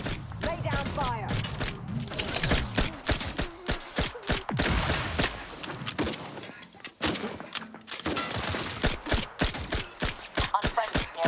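Rapid bursts of gunfire in The Outer Worlds 2, dense volleys and single cracks clustered over several seconds with a brief lull, mixed with game sound effects and voices.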